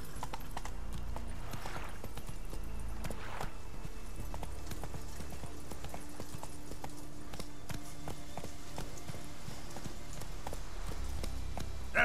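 Roach the horse gallops in The Witcher 3, a steady, close clip-clop of hooves running continuously under faint ambient game sound, with no voices.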